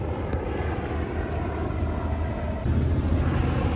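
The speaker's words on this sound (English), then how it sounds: "D in the Black Hawk helicopter ripping it up." A Black Hawk helicopter flies over the Freedom Factory grounds during a camping event, giving a steady, rumbling engine drone that holds at a fairly constant level and swells slightly louder near the end, with no talking.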